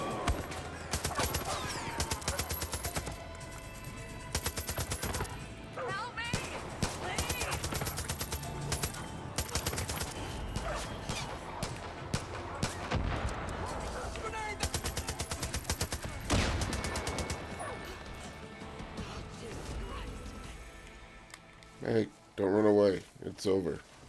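Dense, continuous gunfire in the video game Far Cry 5, with rapid automatic bursts and explosions layered over game music and effects, while a voice talks over the action.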